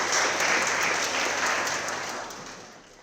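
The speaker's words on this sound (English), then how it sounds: "Can we give them a round of applause and thank them for the time over here?" An audience applauds a panel of speakers at an event, full and sustained clapping that fills the room and gradually tapers off toward the end.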